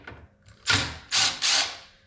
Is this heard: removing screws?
yes